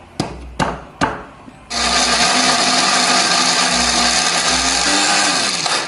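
Electric blender grinding a chili spice paste with added water or oil, starting after a few sharp knocks and then running loud and steady with a whining motor tone that shifts slightly near the end.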